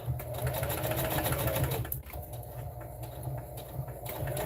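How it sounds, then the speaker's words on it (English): A sewing machine stitching a lined tote bag, a rapid mechanical rattle that runs steadily, pauses briefly near the middle, then resumes in short bursts, close and clear. "Okay, now I'm going to sew all the way to the top."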